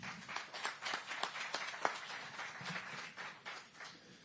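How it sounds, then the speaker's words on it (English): Faint, distant applause at a Supercross press conference in Denver: scattered hand claps in an irregular patter with one sharper clap standing out, and no voices over it. "Big round of applause."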